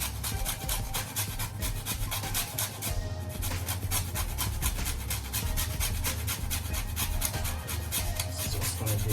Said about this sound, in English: Grate my nutmeg. Get the grater. Grate that nutmeg in there.